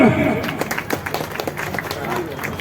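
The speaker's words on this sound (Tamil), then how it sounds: "இந்த தர்மகத்தாக ஒரு தடவை கைத்தட்டு" A crowd at a temple festival claps in a burst of applause mixed with loud voices and talking throughout.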